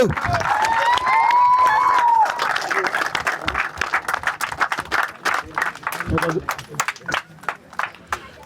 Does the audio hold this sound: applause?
yes